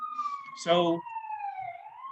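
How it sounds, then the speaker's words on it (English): Emergency vehicle siren passing outside, a wailing tone that slides up and down and stays clear throughout, briefly interrupted by a short spoken word. "Sorry about the sirens, guys."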